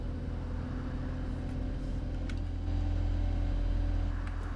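ADL Enviro 200 MMC bus engine in the OMSI 2 driving simulator, a steady low idle-like drone with tonal hum that swells slightly louder partway through, continuous and close, with no talk.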